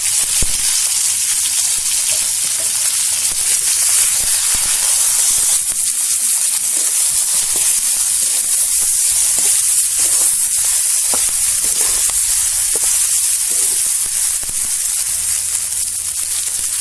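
Stuffed capsicum and leftover masala sizzling in a cumin and mustard seed tempering, a continuous hissing, bubbling fry heard up close without any voices.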